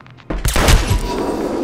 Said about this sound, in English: That was a gun, all right.